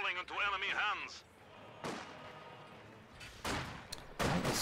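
Rifle grenade blasts and gunfire from Grenadiers in a WWII real-time strategy match, several sharp broadband bangs spaced over a few seconds, with a burst of voice-like chatter at the start.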